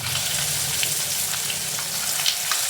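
Grated raw mango chutney fries and sizzles in a pan while being stirred, a steady close crackling hiss with faint scraping touches throughout.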